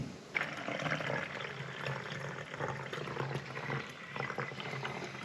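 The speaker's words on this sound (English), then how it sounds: "So we're going to fill this canteen up with some water" Water being poured into an ALFA1 GI canteen, a steady close splashing and gurgling fill that runs continuously at moderate loudness, with no talking.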